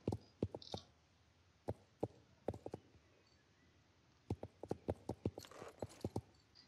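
Horse hooves clip-clop in the Star Stable Online game, sounding as a run of sharp, fairly close hoofbeats in two uneven bursts with a pause between them and no talking.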